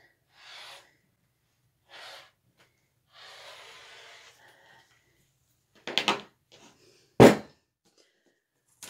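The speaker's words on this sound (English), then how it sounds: "Sorry about the coughing." A quiet room with a few soft breathy sounds, then two sharp, close coughs in quick succession near the end.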